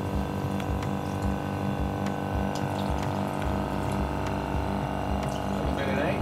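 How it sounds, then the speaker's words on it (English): A vacuum pump runs steadily during a lab vacuum filtration, with a rhythmic mechanical chugging and a constant hum, water sloshing through it, loud and unbroken throughout. "I'll turn the pump on for this."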